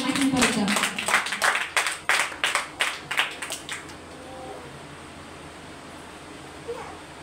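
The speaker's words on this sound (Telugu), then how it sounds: "గట్టిగా చప్పట్లు కొట్టి ఆయన నామాన్ని మహిమపరుద్దాం." A congregation at a church service claps together loudly, a quick run of about a dozen sharp claps over four seconds that then stops, followed by quiet room tone with faint background voices.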